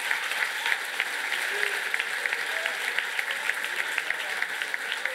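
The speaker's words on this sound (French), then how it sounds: "Merci, applaudissez-les, ils sont hallucinants." Steady audience applause at a cultural gala awards segment, a fairly even wash of clapping from a sizable crowd heard at a moderate distance, with occasional sharper claps and faint voices underneath.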